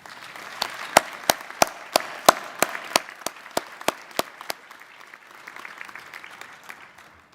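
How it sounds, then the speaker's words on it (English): An audience at a University of the Arts alumni commencement claps in a sparse round of applause. Sharp, separate handclaps ring out in an irregular rhythm, then thin and fade toward the end. "would you join me in giving them a round of applause?"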